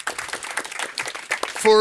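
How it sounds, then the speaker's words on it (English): A seminar audience applauds, with brisk scattered clapping at moderate volume that ends with a short tone. "I think we give also Thomas an applause"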